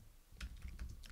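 Brief burst of typing on a computer keyboard, with a handful of quick, quiet keystrokes clicking close by and no voices.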